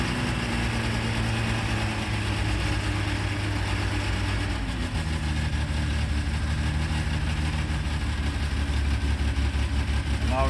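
Volvo C306 engine running on choke at a steady, throbbing idle, close and constant, with a slight drop in pitch partway through as it settles.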